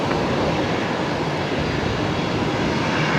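An Air Niugini jet from Papua New Guinea at Brisbane airport gives a loud, unbroken engine roar that fills the short stretch, with no voices over it.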